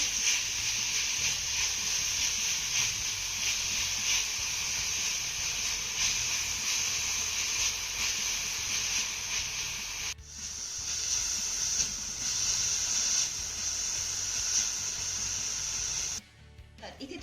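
Grated bitter gourd sautéing in a pan over a low to medium flame until dry: a steady close hiss with soft sizzling and brief scraping breaks where the pan is stirred, no talking.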